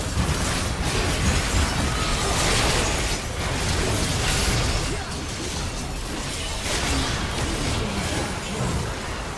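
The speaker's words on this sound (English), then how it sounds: "Team's turret has been destroyed." A turret blown up in League of Legends during a ranked Korean jungle match between Viego and Karthus, heard as a dense, steady wash of blasts and clanking game effects filling the whole stretch.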